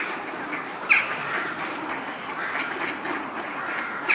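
Ducks quack while being fed bread outdoors, a couple of short nearby quacks standing out against a steady background murmur of more distant birds and ambient noise.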